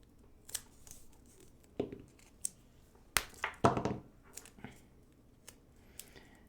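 Tape is pulled off its roll, torn and pressed onto the battery wiring of Motion heated gloves being adapted for Milwaukee batteries, with a few sharp rips and scattered taps close by.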